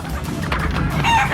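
A chicken squawking and clucking loudly and close as it gets squashed in a fantasy film town scene, a short agitated burst over background noise.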